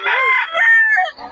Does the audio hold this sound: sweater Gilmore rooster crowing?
yes